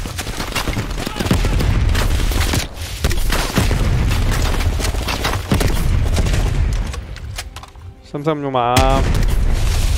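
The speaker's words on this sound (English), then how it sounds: "You ready your grenade launcher and charge ahead." Grenade launcher fire and explosions in the Call of Duty Black Ops Cold War campaign, set during a Vietnam-era VC attack: loud, dense booms and rapid gunfire bursts fill the scene continuously, with a brief drop before more blasts, and a voice speaks briefly.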